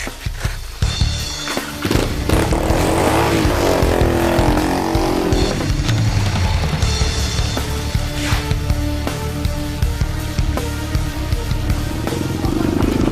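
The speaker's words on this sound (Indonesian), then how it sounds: "Nyetirnya pakai motor! Lebih cepat!" A motorcycle speeds along in a loud, continuous, rough engine roar that stays close and fills the scene from start to end.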